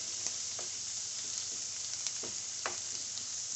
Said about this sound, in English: So I'm gonna let that sizzle down a little bit.